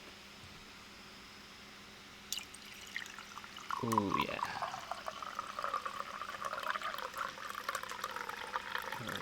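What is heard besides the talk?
water being poured, ASMR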